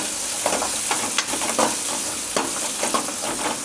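Small shallots and dried red chillies fry in hot oil in a pan, with a loud, continuous crackling sizzle broken by irregular scraping stir strokes.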